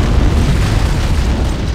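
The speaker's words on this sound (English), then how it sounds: "It must have been one of their boarding parties. I'd guess an antimatter charge." Antimatter charge explosion aboard the Pillar of Autumn starship in Halo: Combat Evolved: a loud, sustained, rumbling boom that fills the whole two seconds with heavy low-end roar.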